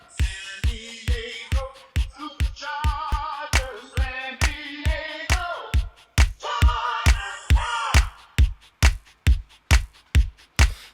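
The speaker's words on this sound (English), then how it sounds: "Too much phaser." A music loop with a steady, punchy kick drum pulse under swirling, sweeping synth tones that whoosh and shift in a strong phasing effect.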